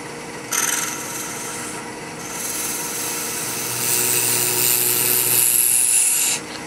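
A hand tool cuts a shallow depression into wood for a pin tray in downhill push strokes, making a long, continuous, dry scraping rasp. Close and steady, with no talking.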